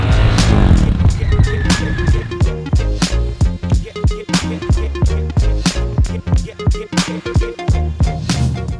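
Motorcycle entering a drift with the rear tire locked by the rear brake, engine revs pulsing in rapid, rhythmic bursts, loud and close, with tire noise underneath.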